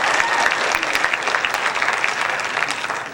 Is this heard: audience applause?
yes